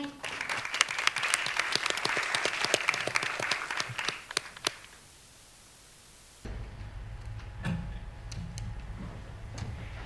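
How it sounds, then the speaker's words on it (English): Audience applause for an 11-year-old boy about to give a speech at a children's world peace summit, a dense sustained burst of clapping that fades out around the fifth second, followed by quieter room noise and brief low voices. "Please give him a big round of applause."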